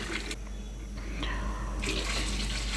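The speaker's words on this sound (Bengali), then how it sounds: "আমি প্রথমে চুলাতে সসপ্যান দিলাম, তারপরে ১৫ লিটার তরল দুধ দিচ্ছি।" Fifteen liters of liquid cow's milk pour into a saucepan on a stove for firni, a continuous close splashing gush of liquid with shifting tone as the pot fills, without talking.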